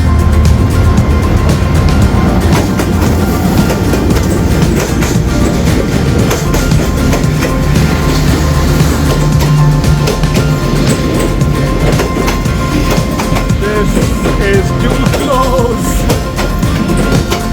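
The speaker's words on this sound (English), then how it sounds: "I can hear the sound of the train." A train passing close by, loud and rumbling with rhythmic clattering of wheels on the rails that carries on steadily throughout.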